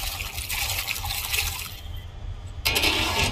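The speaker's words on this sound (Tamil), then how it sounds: "then they wash the fish in that water" Dried stingray fish is rinsed in a basin of water in a village kitchen, with sloshing and splashing that eases for a moment before a louder burst of pouring and rushing water.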